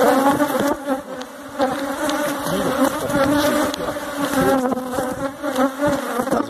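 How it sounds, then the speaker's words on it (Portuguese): Honeybees swarm thickly around an open hive frame at an apiary, making a loud, continuous, dense buzz that swells and dips slightly for several seconds with no speech. "É, quanta abelha."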